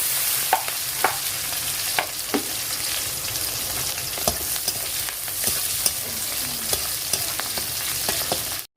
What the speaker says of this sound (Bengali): আমার পেঁয়াজগুলি সব ভাজা হয়ে গেছে এবং লঙ্কাও ভাজা হয়ে গেছে